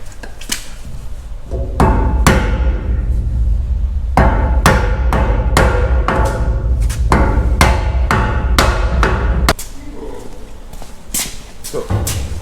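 Repeated hammer blows on a stuck tool while cutting holes in a boat hull below the waterline: loud, close metallic strikes in irregular bursts over a low steady hum, with a quieter stretch at the end.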